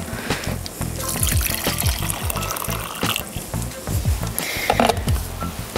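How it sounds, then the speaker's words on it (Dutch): Already boiled water from a kettle pours steadily into a pot or container, a close, gurgling stream with bubbling splashes that continues throughout. "Dit is water uit de waterkoker."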